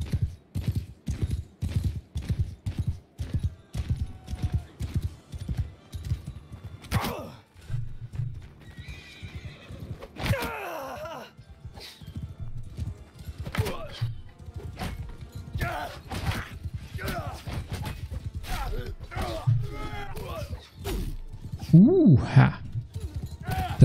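Horses in a medieval battle scene from Mount and Blade II: Bannerlord clip-clop steadily, with whinnies and neighs, creaks and thuds, while someone talks over the action.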